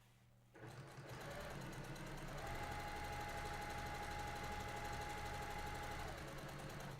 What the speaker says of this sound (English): So just sew as straight as possible.